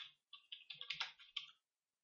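Quick burst of about eight close, quiet keystrokes on a computer keyboard as a name is typed into a CorelDRAW field, with brief silence on either side.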